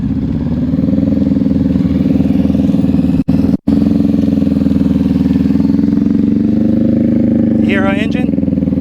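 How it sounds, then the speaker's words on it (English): A motorcycle with a fixed fairing, like a Road Glide, idles along at a steady low engine note during slow-speed riding practice, loud and close, with a brief cut-out midway and faint talk near the end. "Hear her engine? Steady."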